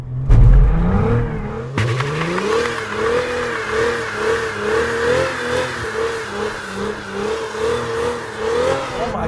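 A Cadillac CT4-V Blackwing engine revs hard and holds a loud, steady wavering roar while the front brakes are locked, with a sharp burst of power near the start and rising, pulsing pitch throughout.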